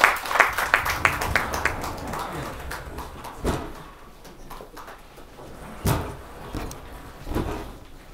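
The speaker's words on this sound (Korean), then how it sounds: "박수로 힘차게 환영해 주시기 바랍니다." Audience applause at an academic seminar marking the founding anniversary of Dongguk University's Yeohae Institute, greeting the seminar host: a dense burst of clapping in the opening seconds that thins into scattered claps and knocks.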